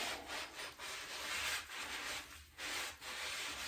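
Scrubbing a dug glass bottle clean by hand, giving a steady, close, continuous rubbing and brushing sound in long strokes with brief pauses, heard alone without talk.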